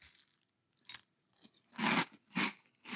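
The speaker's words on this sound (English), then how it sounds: "Let's give Cap'n Crunch's Seaberry Crunch with milk a try." Someone eats Cap'n Crunch Seaberry Crunch cereal with milk, giving a series of close, loud crunching chews that come in bursts and get heavier toward the end, with no talking.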